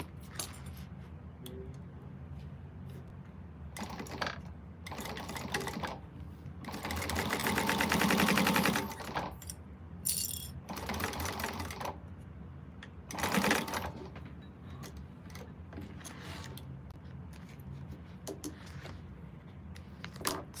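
Sewing machine top stitching a quilted bag panel, running in several bursts of rapid mechanical whirring, the longest in the middle, separated by quieter pauses with faint handling noises.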